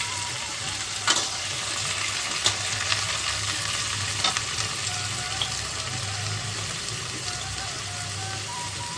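Vegetables frying in a pan for a Bengali thali, a steady close sizzle and crackle with occasional stirring scrapes, continuous and fairly loud throughout.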